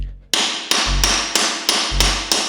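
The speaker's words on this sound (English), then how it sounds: "I used my impact gun to spin it." Impact gun hammering on the bent swingarm pivot of a wrecked KTM Super Duke, firing a series of six or seven sharp, loud, evenly spaced bursts at close range.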